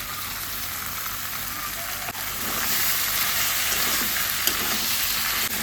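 Spices with Kashmiri chili powder and jackfruit frying in a pan for a chicken and jackfruit curry, a steady close sizzle that swells a little louder partway through, with no talking.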